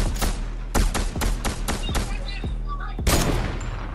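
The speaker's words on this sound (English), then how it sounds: "Somebody else shooting." Rapid bursts of gunfire in a Fortnite match, sharp cracking shots in irregular clusters, some close and loud, with a player's voice talking over parts of it.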